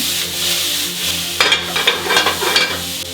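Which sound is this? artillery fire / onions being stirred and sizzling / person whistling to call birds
onions being stirred and sizzling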